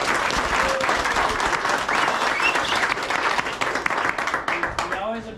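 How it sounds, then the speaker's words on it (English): Loud, dense applause from a crowd at a four-wheeler club trail event, steady and sustained throughout, with some cheering voices mixed in. "Can we give them a round of applause?"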